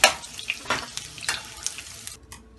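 Chicken pieces fry golden in hot oil in a pan on the stove for a sizzler dish, a steady crackling sizzle with sharp popping bursts and the scrape of stirring, no voices.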